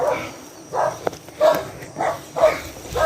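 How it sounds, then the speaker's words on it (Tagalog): Several dogs near a house bark in short, separate bursts, about five loud barks in a few seconds with quiet gaps between them. "Uy, ang daming aso nga."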